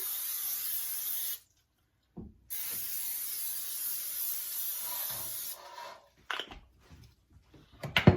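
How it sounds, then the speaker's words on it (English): A steady hiss of Pam cooking spray onto a cookie sheet in two long bursts with a short pause between, followed by a few light clatters and taps. "I'm just going to spray my cookie sheet with some Pam"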